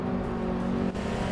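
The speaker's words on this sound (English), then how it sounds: "Guillaume Cleochot is driving a 1998 Porsche" A 1998 Porsche 911 Turbo race car in a racing video game gives off a loud, steady engine drone that holds for just over a second, with a brief dip near the end.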